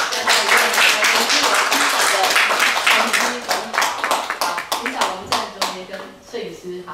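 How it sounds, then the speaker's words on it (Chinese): An audience claps at a Chinese New Year celebration at Steinway & Sons, a lively burst of applause fading into scattered individual claps while a host speaks over it. "掌声哈！"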